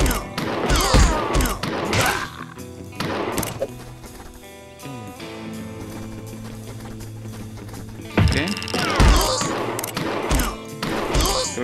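Bursts of sharp, rapid rifle shots crack out in a video game at the start and again near the end, with sustained musical tones filling the quieter stretch between.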